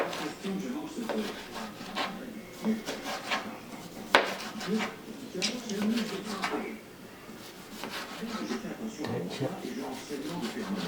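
A knife cutting thin slices of citrus on a wooden cutting board in a home kitchen, with repeated soft rasping strokes and a few sharper taps, close, under someone speaking.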